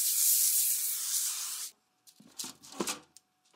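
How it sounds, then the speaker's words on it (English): Cooking spray hisses steadily from a can onto a cooling rack set over a foil-lined baking sheet. The burst lasts under two seconds, and a few soft clicks and handling knocks follow. "Coat lightly with cooking spray and set aside."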